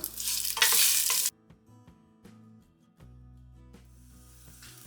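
Whole cloves, a piece of cinnamon, mace and fennel seeds crackle in hot oil for paneer biryani, a loud burst of sizzling for about a second, then quieter scattered pops and stirring scrapes.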